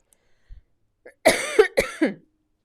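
A quilter seated at a quilting machine coughs several times in a short, close burst after a few faint rustles, with the harsh coughs coming in quick succession.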